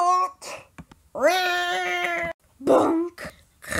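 Cartoon cat meowing loudly up close, with a long drawn-out yowl in the middle flanked by shorter meows and scratchy squeals, and no talk over it.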